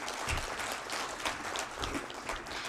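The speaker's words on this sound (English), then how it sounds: "Let's have a round of applause," Audience applause at a climate policy conclave, a steady wash of many hands clapping at moderate level, continuous without pause.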